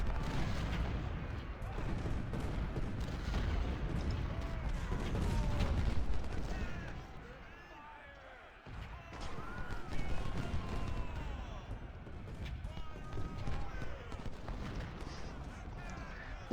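Scattered gunfire and distant artillery booms rumble through a Civil War battle in Ultimate General: Civil War, irregular muffled reports with a brief lull midway before the firing picks back up.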